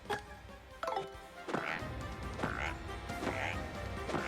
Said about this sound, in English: Yeah, that's a frog.